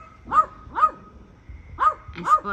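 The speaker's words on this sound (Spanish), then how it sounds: "Ya se asustaron los perros también ahí arriba, miren." Dogs at a campsite bark during nearby fireworks. Four distinct, evenly spaced barks ring out over two and a half seconds, clear and fairly close, with no voices.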